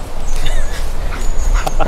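A Dobermann or Rottweiler whimpering and yipping in short, high, excited bursts over a noisy outdoor background.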